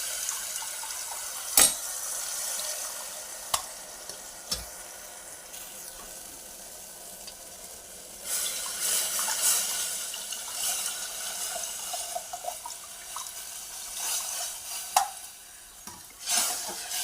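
Tamarind water poured into okra curry frying in a pan: soft continuous sizzling and watery hiss with occasional stirring clinks and knocks, fairly quiet and close.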